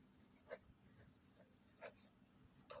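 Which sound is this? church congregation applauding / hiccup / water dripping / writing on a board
writing on a board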